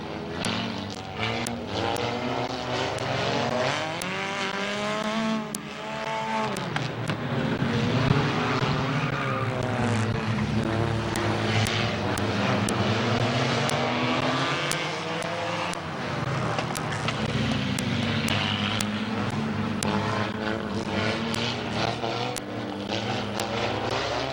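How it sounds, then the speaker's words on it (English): Race cars roaring around a speedway under green-flag racing, a loud, continuous engine drone with rising and falling pitch as cars pass close by, steady and sustained without talk. "Green flag racing, Blake Miley, Drew Romy."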